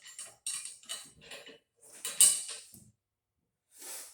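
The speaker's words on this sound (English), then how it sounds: "We're just going to bolt this on." A pin is bolted onto an EVO ID T-bar row attachment, giving a series of short metallic scrapes, clicks and rattles in irregular bursts, close by and fairly quiet, with pauses between.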